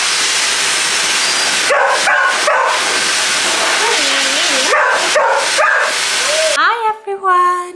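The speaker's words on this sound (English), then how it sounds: "he thought it would be a fantastic idea to bark for 2 hours straight at the door" A dog barks and yips repeatedly at a door, loud and close, in a run of barks with whimpers near the end, heard alongside a person talking.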